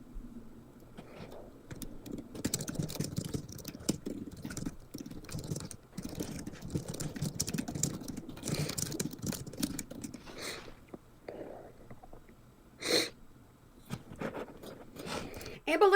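A computer keyboard with no number keys clatters in quick, uneven bursts of clicks, and a person talks over the typing.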